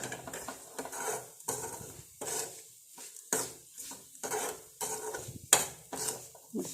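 Ground prawns are stirred and mixed in a pan in a series of scraping, rasping strokes, each lasting about a second with short pauses between, close and fairly loud, with a light sizzle and no talking.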